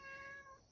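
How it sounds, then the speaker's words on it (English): A pet cat meows indoors in a single short, fairly close call with a clear tonal, harmonic cry that fades out after about half a second. "excuse my cat. He's ready to start whining."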